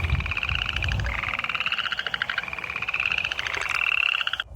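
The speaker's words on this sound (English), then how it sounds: "And now there are more frogs." Several frogs croak in rapid, overlapping pulsing trills, loud and close, forming a dense continuous chorus with no voices.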